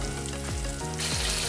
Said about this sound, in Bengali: আমি এই মাথাগুলিকে 1 মিনিটের মতো কষিয়ে নিব